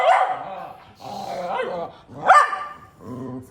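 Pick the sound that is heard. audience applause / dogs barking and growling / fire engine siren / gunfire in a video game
dogs barking and growling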